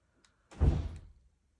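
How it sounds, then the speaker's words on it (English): A door slams once inside a house, a single loud, close thud with a short ringing tail, alone and without speech. "Somebody in my house just slammed a door."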